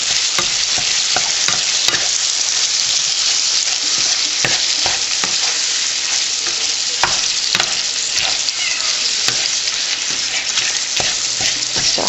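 Ground beef browns in a frying pan for fried flour tacos, giving a steady bright sizzle with frequent sharp spatula taps and scrapes, close and constant for the whole stretch with no voices.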